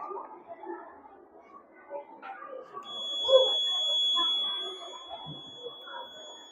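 The buzzer of a school science-fair rain detector, built with a switch and a battery, sounds a thin, steady high-pitched tone for a few seconds over quiet chatter from a crowded room.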